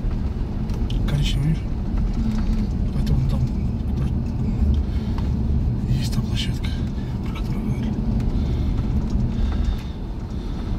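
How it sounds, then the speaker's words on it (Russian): Steady low engine and road rumble from cars moving off on the mountain road over the Gumbashi pass toward Dombay, continuous and fairly loud, with faint muffled voices inside the vehicle. "Вот и машины поехали."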